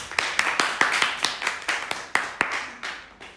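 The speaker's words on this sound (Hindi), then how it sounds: "एक बार जोरदार ताली हो चल" Sharp hand claps ring out in a quick, slightly uneven series, roughly a dozen, fairly close and with no voices.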